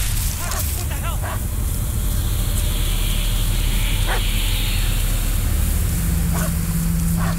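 Dog barking and growling in the horror video game Blair Witch, with several short bark bursts scattered over a constant loud ambient drone and low rumble, sounding somewhat distant within the game's dark setting.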